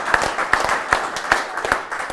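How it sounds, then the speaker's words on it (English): Audience applause after thanks at a talk with sailor Peter Thommen, a steady, fairly close patter of many hands over about two seconds with a faint voice mixed in. "that's an applause for you"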